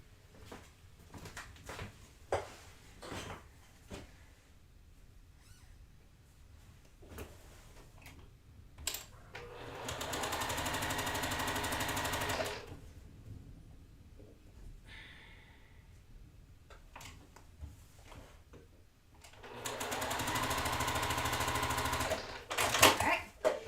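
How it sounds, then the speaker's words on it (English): A sewing machine chain-pieces quilting fabric in two sustained bursts of steady mechanical stitching, separated and preceded by quieter handling clicks and rustles; no one speaks. "I'm going to sew down this way."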